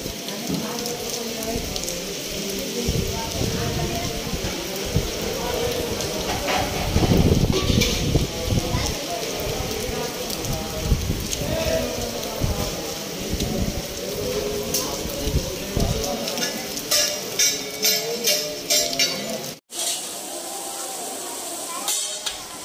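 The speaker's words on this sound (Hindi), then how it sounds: "यहाँ पर काफ़ी तेज़ बारिश हो रही है दोस्तों," Heavy rain falls on the grounds of a temple, a dense hiss of drops striking surfaces close by, with louder splashing bursts partway through and a brief dropout near the end.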